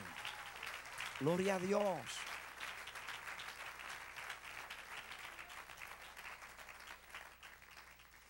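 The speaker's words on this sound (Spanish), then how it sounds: "Dale un aplauso a él." A church congregation applauds in a steady wash of clapping that swells early and then fades gradually, with a voice speaking briefly over it near the start.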